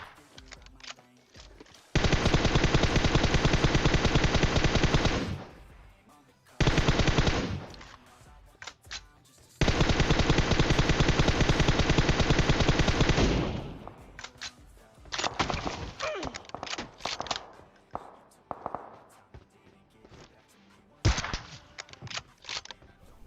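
Automatic weapon fire in the mobile battle royale game PUBG Mobile, several long sustained loud bursts separated by short pauses, followed by scattered single shots and quieter distant volleys.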